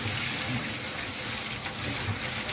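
A sink faucet running steadily at some pressure to rinse a part taken off a wind machine fan: continuous close, loud water splashing and hissing with no break.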